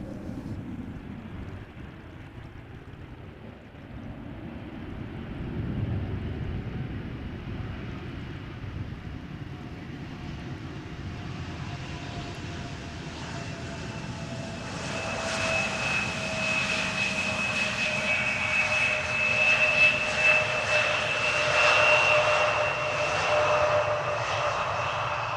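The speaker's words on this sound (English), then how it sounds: "And we are looking at the arrival of the Embraer 175." Embraer 175 jet airliner arriving at Amsterdam Schiphol Airport on a flight back from Leeds, a steady engine roar that swells louder over the second half with a whining tonal hum, wind buffeting the microphone throughout.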